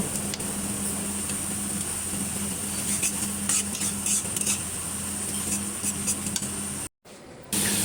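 Dried fish frying with green chillies in a pan, giving a steady close sizzle with scattered crackles and light utensil ticks, and a brief gap near the end.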